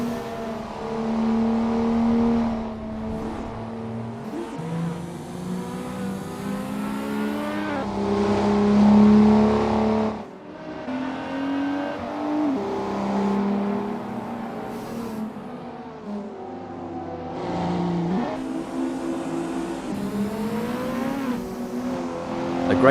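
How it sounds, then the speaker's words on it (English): Estate wagon race cars in a winter sim racing game set in Switzerland, engines revving and shifting loudly and continuously, pitch climbing and dropping through gears, with a brief dip near the middle. "A great pass for Rolf Biber as they pick off other drivers and move up the field"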